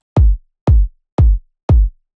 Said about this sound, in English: So we have a punchy kick,